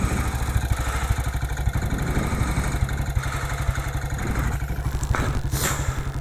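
A 1959 BSA motorcycle engine idles steadily and close by, its low, even thump running without a break, with a faint rise in pace near the end.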